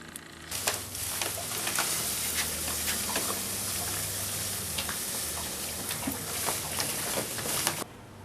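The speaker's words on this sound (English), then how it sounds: "we got the stir plate going there" A magnetic stir plate spins a 1 liter yeast starter for homebrewing, giving a steady hiss and swirl that runs for most of the stretch, with small ticks and clicks scattered through it.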